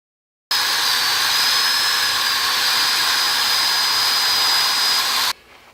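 Wire wheel grinding a Honda Goldwing cylinder head valve: a steady, loud, high whirring abrasive hiss that starts abruptly, runs continuously for about five seconds, then cuts off.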